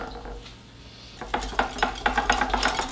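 Pulled pork seasoned with salt and pepper mixed by hand in a bowl, with a quiet start and then a run of close, rhythmic scraping and clinking strokes.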